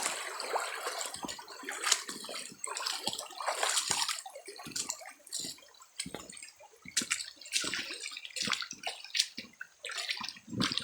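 Strong floodwater rushing past bamboo, a steady broadband roar broken by irregular splashes and gurgles, moderately loud and close, with no talking.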